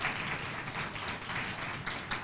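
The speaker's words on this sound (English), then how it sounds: "may we have a giant round of applause for all the volunteers in the council and the library" A community audience at a Lakeville Arts Council cabaret night applauds its volunteers, steady dense clapping filling the room throughout, moderately loud and continuous without a break.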